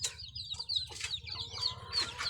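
Backyard chickens behind a house cluck and squawk in short overlapping bursts, some sharp high calls close by over a constant low murmur.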